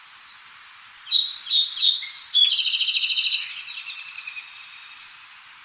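Song sparrow song from a birding-by-ear quiz: a few sharp introductory notes followed by a rapid buzzy trill and fading twitters, clear and fairly close, with no talk.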